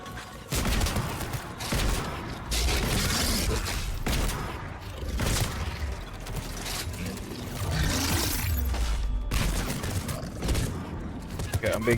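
Heavy gunfire in a Mass Effect 3 combat zone batters the player, dense crackling volleys with sharp bursts running almost continuously, loud and close, with a voice talking over parts of it.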